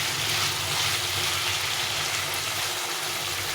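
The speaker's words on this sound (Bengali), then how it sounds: "আস্তে আস্তে কষিয়ে নিতে হবে ভালো করে সুন্দরভাবে যতক্ষণ তেল না খাবে ততক্ষণ কষিয়ে নিতে হবে" Elephant foot yam and potato chunks with spices stirred slowly in hot oil, giving a steady, close, even sizzle and crackle throughout with no pauses.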